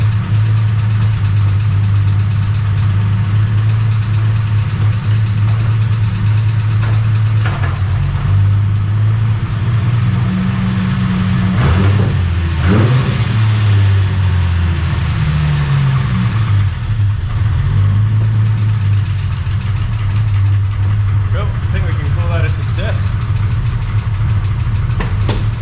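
A drift build car engine revs steadily with its wheels spinning, a loud, continuous mechanical roar that rises and falls in pitch across the whole stretch, with no voices over it.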